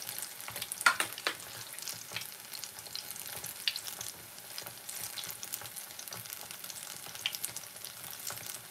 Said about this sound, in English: how you can fry plantain